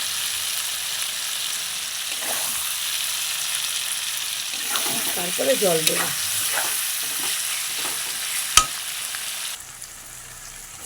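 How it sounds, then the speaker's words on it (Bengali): Potatoes fry with tomato puree in a pan for a fish curry, a steady close sizzle with stirring scrapes, a brief spoken remark midway and one sharp clack near the end. "আর একটু ভাজবো বন্ধুরা।"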